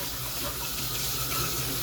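Tap water runs steadily while a pet bowl is rinsed, a close, even splashing rush that lasts the whole time with no talking.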